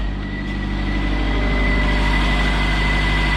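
A 1991 Toyota MR2 with a 2.2 liter 5S FE four-cylinder and 175,000 miles idles steadily up close, a smooth continuous hum with a low rumble and no voices.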